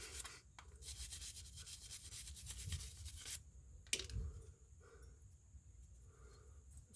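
Brush scrubbing rust off rear brake hardware on a 2016 Honda CR-V AWD, making quick close scratchy strokes in bursts with short pauses, faint overall.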